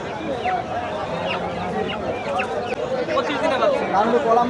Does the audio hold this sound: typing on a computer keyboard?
no